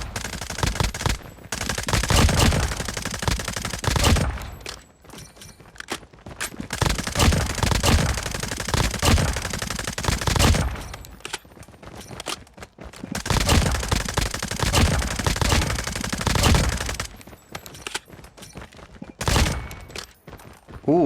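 SMG fire in Call of Duty Mobile comes in repeated loud, rapid bursts of several seconds each, with brief quiet gaps between volleys.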